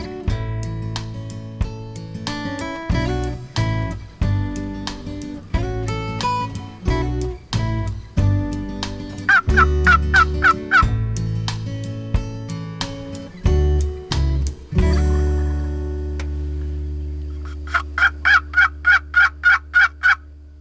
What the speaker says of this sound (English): This old gobbler's wanting to come in.